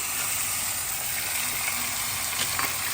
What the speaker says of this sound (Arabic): غادا نزيد عليها هنايا مطيشه اللي قطعتها